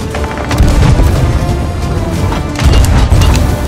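Cannons boom in the pirate video game Sea of Thieves, two loud, heavy blasts with crashing impact noise in a dense, continuous battle din.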